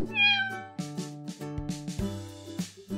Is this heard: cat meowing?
yes